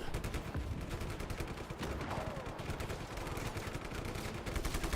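Gunfire in the video game Just Cause 3, a dense continuous barrage of rapid shots with no break, moderately loud throughout.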